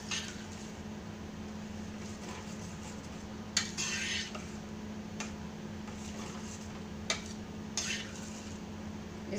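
Pav bhaji is stirred in a pan, faint intermittent scraping and clinks of a utensil against metal over a steady low hum.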